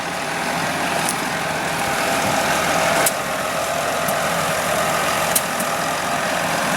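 A tractor engine idles steadily at a constant, moderate level, a continuous broadband rumble with a few faint clicks, while a steel mouldboard plough is readied on rocky ground on a cloudy day.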